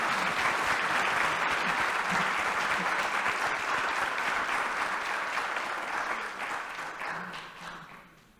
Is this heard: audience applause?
yes